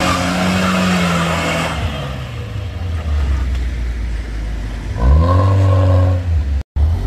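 A car drifts on a slippery surface in a driving-school lot, its engine revving and tires squealing in long wavering screeches, with a loud burst of acceleration and squeal near the end before an abrupt cut.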